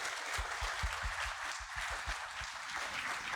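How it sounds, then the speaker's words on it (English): Audience at a college talk show applauds in a steady wash of clapping, with a few low thumps pulsing underneath throughout. "round of applause for that"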